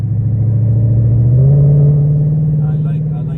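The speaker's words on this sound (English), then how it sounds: "I like the exhaust a lot. It sounds nice." A Ford Mustang's exhaust rumbles steadily at close range, a deep low burble that rises slightly in pitch midway as the revs climb, then settles back into a loud, even drone.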